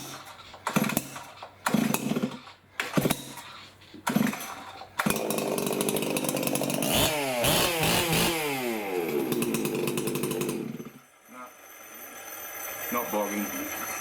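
A G366 chainsaw being restarted to check whether it bogs: a few short sputtering bursts, then the engine catches and runs loud and steady for several seconds before cutting out, with someone talking around it.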